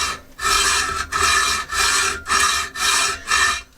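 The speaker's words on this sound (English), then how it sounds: "So, with this hacksaw, I'm just going to start this cut." A hacksaw starts a cut with six even back-and-forth rasping strokes in a steady rhythm, close and clear, with brief pauses between them and no speech.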